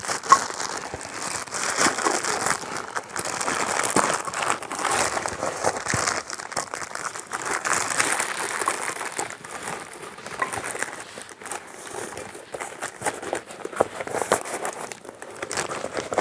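Packaging of a camping gas burner rustles and crinkles continuously up close as the outer case and components are handled, with steady plastic crackling and occasional soft tearing.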